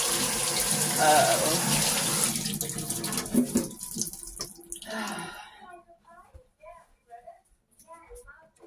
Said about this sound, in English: Okay, let's get the warm water on my hands.